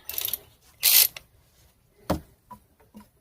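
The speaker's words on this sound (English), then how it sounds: "that is called a cordless ratchet" A cordless ratchet turns a bolt during thermostat and temperature sender work on a Pontiac G6 GTP, giving a few short mechanical whirring bursts separated by quiet pauses.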